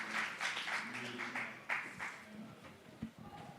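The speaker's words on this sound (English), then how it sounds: "Big round of applause for them" Applause for a youth pitch team at a Young Challengers Program event: a burst of clapping from a modest crowd, mixed with voices talking over it.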